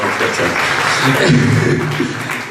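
Steady, dense applause from an audience at an award ceremony for the Premio Prunola 2018, continuous clapping with a faint voice underneath, sustained throughout without pause.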